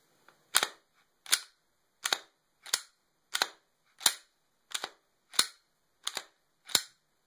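A Glock 22 slide is racked about ten times in a steady rhythm after being lubricated with Frog Lube, each one a sharp, close metallic clack with no squeal, separated by quiet.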